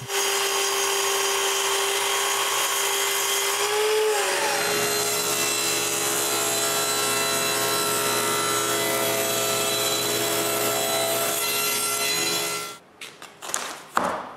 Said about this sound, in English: I have to cut all my strips straight and rip them in half.